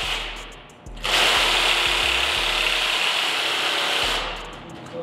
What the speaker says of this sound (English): get that bolt in, and then we're gonna start tightening it up